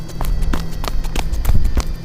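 A man runs toward a room at night in a horror film, quick hurried footfalls thudding in an irregular beat over a low musical drone.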